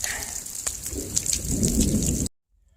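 Steady rain falls with a low thunder rumble during a storm at an outdoor deck build, running evenly for about two seconds before cutting off into silence.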